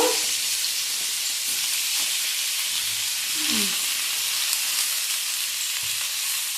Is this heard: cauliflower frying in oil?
yes